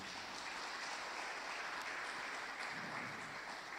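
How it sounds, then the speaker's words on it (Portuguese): A congregation in a church claps along with the preacher, producing a faint, steady wash of distant applause that fills the hall evenly from start to finish. "Aplauda ao Senhor na sua vida."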